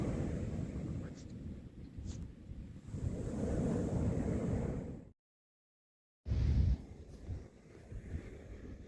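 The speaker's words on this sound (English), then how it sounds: "the sound of the ocean" Ocean waves at Playa Blanca beach in Cancun wash in with a steady low roar and wind buffeting the microphone, cutting out for about a second before the surf returns.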